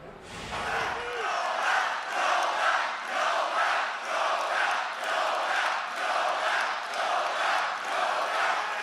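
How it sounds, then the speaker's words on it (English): A large crowd at a presidential rally chants "Nobel" in a steady rhythmic cadence, loud and sustained, with a brief voice or thump at the very start. "Listen to what the crowd was chanting at the president."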